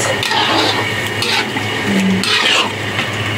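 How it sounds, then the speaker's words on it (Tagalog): Food is stirred in a cooking pot while a lunch simmers, with scraping and clinking of a utensil against the pot over a soft bubbling sizzle, several uneven strokes close by. "Kailangan haluin palagi guys para hindi siya didikit."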